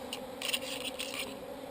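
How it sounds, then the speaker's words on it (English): Soft insect buzzing of bees in short bursts at a bee yard, close by, with a steady background hum and no voices. "you can see how busy the bees are"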